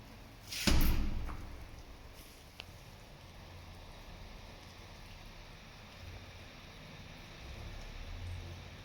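A massive, heavy old door in a pre-war factory building with a vintage elevator swings shut with one booming slam, followed by a faint rumbling tail and quiet hollow room tone. No voices.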